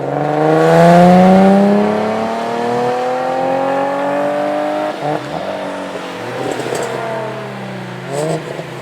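A Toyota Supra revs hard and accelerates, its engine note climbing steadily and loudly before easing off and rising again in shorter bursts, with people talking around it.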